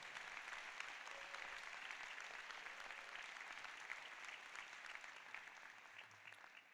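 Sustained applause from a large audience fills a packed hall at the Seton Hall Law School class of 2024 commencement, steady and dense throughout with no voices over it.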